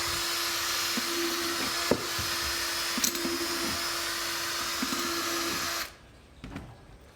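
An electric drill bores 4 mm aeration holes in a plastic worm bin, whining steadily up close with a few small knocks, then cutting off abruptly near the end and leaving quiet handling noises.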